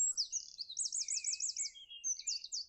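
A bird sings in the trees at a spring campsite in the early morning, bright, rapid warbling trills and whistled phrases, close and clear against near silence.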